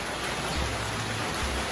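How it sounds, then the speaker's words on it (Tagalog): Steady heavy rain pours down on a farm in the aftermath of Typhoon Enteng, a dense continuous hiss with low rumbling underneath and no voices. "At umuulan pa rin, grabe."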